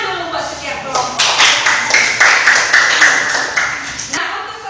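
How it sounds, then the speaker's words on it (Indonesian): Children in an Indonesian classroom clap for each group, a dense, steady patter of many hands filling the room for several seconds before fading, with voices mixed in. "Tepuk tangan dulu buat setiap kelompok."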